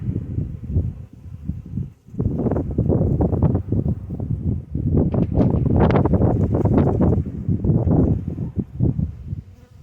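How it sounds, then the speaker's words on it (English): Wind buffets a microphone outdoors near a bee feeder, a loud rumbling roar close up that surges and dips in uneven gusts throughout, with no voices. "Hopefully my hand's blocking the wind."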